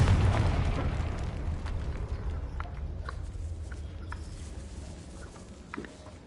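A Confringo fire spell detonates in the video game Hogwarts Legacy, giving a loud, rumbling blast that slowly decays into a low roar, with a few faint crackles and ticks trailing behind.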